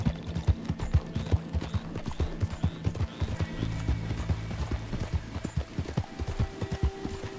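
Rapid clip-clop of hooves galloping close by in the video game Red Dead Redemption 2, a steady rhythmic thudding with a brief whinny and some game sound effects in the background.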